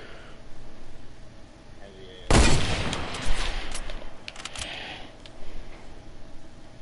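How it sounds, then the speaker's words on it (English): Video game gunfire in a squad match erupts as a loud burst of shots and a booming blast after two seconds of quiet ambience, followed by scattered further shots fading out over a low background hum. "Nope, they're shooting at me."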